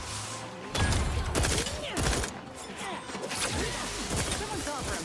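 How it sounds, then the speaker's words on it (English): Gunfire in The Outer Worlds 2, a fusillade of shots and impacts around the player, loud and close, with voices speaking over the shooting. "Who's shooting me?"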